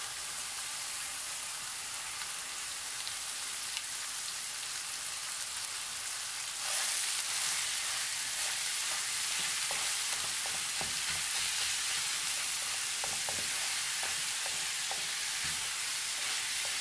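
Ground beef frying in a pan, a steady broadband sizzle that swells louder partway through as the meat hits the heat, with scattered crackles and no talk.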